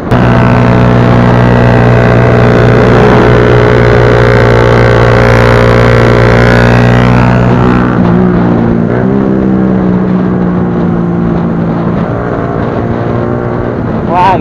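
Loud sport motorcycle engines drone and rev nearby on a Sunday ride in Indonesia, a steady mechanical roar that shifts pitch as bikes pass, with a voice briefly heard.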